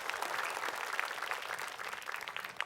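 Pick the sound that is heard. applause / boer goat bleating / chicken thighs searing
applause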